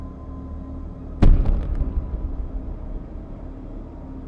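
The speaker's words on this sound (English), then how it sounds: "An explosion followed." A gas explosion in an apartment building, a Soviet-era prefabricated panel block, arrives as a single sudden booming blast. The heavy rumble fades over a few seconds, and no voices are heard.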